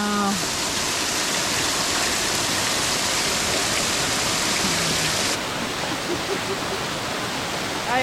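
Twin Falls at Rock Island State Park, Tennessee, roars as a loud, steady, broadband wash of falling water, close and unbroken throughout, with no voices.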